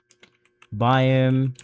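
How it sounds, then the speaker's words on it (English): Several light keystroke clicks on a computer keyboard as a Minecraft chat command is typed, sparse and quiet, followed by a sustained voiced sound. "press T on your keyboard and type the following command"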